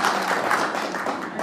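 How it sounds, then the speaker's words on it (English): Debate audience applause, a brief burst of dense clapping at moderate distance that holds steady for a moment and then thins. "if people keep clapping and interrupting, we're just not going to get there"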